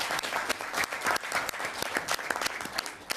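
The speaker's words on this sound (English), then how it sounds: "I think we'll give him a round of applause for pulling it off." Applause for a clerk at a parliamentary committee meeting: a room of people clapping steadily throughout, dense overlapping claps with no voices on top.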